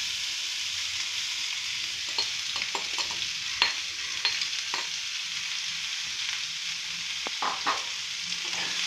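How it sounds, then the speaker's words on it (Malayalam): Chopped long beans for a thoran frying in hot coconut oil: a constant sizzle with a spatula scraping and stirring in irregular light strokes, close by and without voices. "ഇനി നമുക്ക് ഈ അരിഞ്ഞു വെച്ച പയർ ഇതിലോട്ട് ഇടാം"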